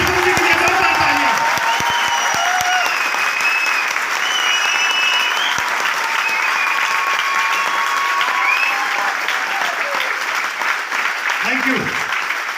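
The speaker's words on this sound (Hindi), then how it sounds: "बोल नसीब के लिए जोरदार तालियां।" Loud, sustained applause from an audience at a motivational seminar, dense continuous clapping throughout with a few brief voices and whistles mixed in near the start and end.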